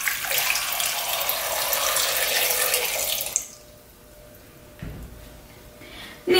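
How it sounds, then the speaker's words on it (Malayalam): Water is poured into a cooking pot of kachil (purple yam) for a few seconds as a loud rushing stream, then stops abruptly, followed by quieter clatter and a brief knock near the end. "അതുപോലെ ആവശ്യത്തിന് വെള്ളവും ഒഴിച്ചു കൊടുക്കാം."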